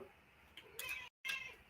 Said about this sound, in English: This cat won't stop.